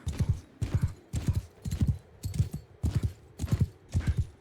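Cavalry horses in the Mount & Blade 2: Bannerlord video game gallop with loud, close hoofbeats, a steady rhythmic clip-clop of about two beats per second for the whole stretch.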